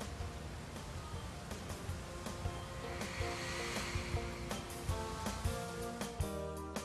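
ProCom4-controlled draft fan blowing air, a steady faint whooshing hiss with a low hum beneath, continuous and even from start to finish.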